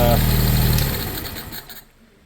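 A Honda CT90 motorcycle engine with no exhaust leak idles quietly with a soft, even rumble, then fades away toward silence.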